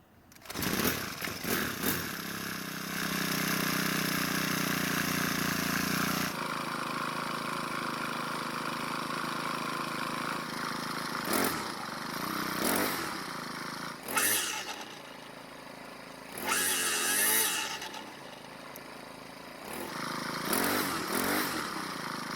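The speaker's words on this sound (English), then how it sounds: "we'll start it back up and hope the head spins this time." A Craftsman 4-cycle string trimmer runs after repair, buzzing steadily at first, then revving in several short bursts separated by quieter idling stretches.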